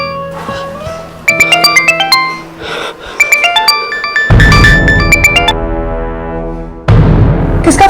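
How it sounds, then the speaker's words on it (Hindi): A phone rings with a melodic electronic ringtone of bright repeated tones, loud and close, playing alone for several seconds before a fuller swell of music joins in. "किसका फोन है?"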